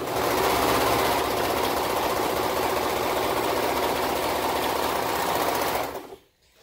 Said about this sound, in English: Make a serge seam.